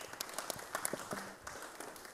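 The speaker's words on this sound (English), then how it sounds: "Give a round of applause." At a Catholic solemnity celebration, a congregation gives a short round of applause, a handful of distinct claps with uneven rhythm rather than a dense ovation, moderately faint, with a brief voice or tone in the middle.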